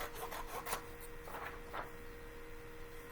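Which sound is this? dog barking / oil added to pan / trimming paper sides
trimming paper sides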